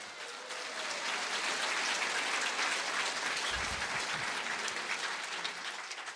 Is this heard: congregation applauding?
yes